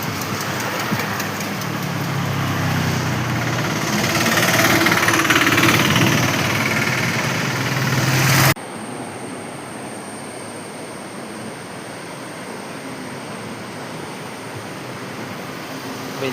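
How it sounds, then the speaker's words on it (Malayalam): A large vehicle rumbles over a shaking bridge, a loud, steady engine drone with rattling vibration that cuts off abruptly into quieter ambient hiss. "വലിയ വണ്ടി പോകുമ്പോഴത്തേന് ഈ പാലം ഇങ്ങനെ കിടന്ന് കുലുങ്ങും"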